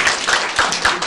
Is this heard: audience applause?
yes